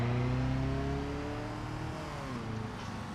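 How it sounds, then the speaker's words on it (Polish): A Caterham roadster drives on a race track, its engine note a close, steady drone that sinks from loud revs to a lower cruise as it goes, with no talk. "najpierw oczywiście przejedziemy się tym samochodem po torze"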